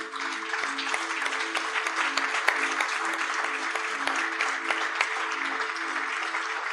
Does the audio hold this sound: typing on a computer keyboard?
no